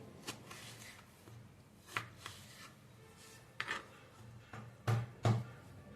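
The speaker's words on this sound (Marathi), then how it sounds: "कैरीच्या अशा उभ्या फोडी करून घेतले" A knife cuts raw green mango into vertical slices, giving a series of irregular, close chopping taps and soft scrapes, with a few heavier thuds near the end; no one talks.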